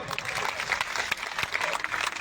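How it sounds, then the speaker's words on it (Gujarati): A crowd claps enthusiastically for Sadaram Bapa at a community gathering, a dense burst of applause with people talking over it. "સદારામ બાપાની એક જોરદાર તાળીઓ બાપા માટે"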